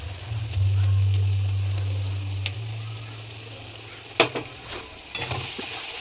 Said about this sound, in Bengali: মশলা একটুখানি কষিয়ে পাঁচ মিনিট মতন কষাবো